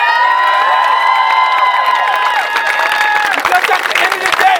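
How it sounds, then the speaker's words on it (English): A live crowd cheers and shouts loudly, with high whistle-like voices and clapping, steady for most of the stretch before breaking into scattered claps and shouts at the end. "Give this man a round of applause."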